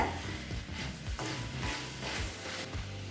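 Mixed vegetables including brinjal sautéed in a pan for village-style Tamil kootanchoru, a soft steady sizzle with occasional stirring scrapes, quiet and close.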